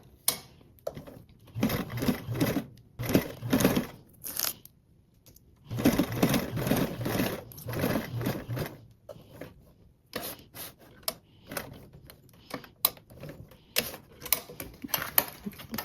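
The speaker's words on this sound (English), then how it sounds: "we're going to start with sewing around this with a 1/8 seam allowance" A domestic sewing machine stitches around a fabric piece at a 1/8-inch seam allowance in close, rapid mechanical bursts of several seconds separated by short pauses and clicks, with no talking.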